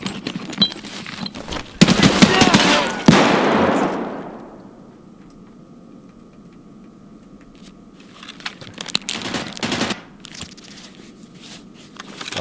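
Gunfire in the video game Escape From Tarkov on the Factory map: a loud burst of shots at the start with a decaying echo, then quieter scattered reports later on, with no talking.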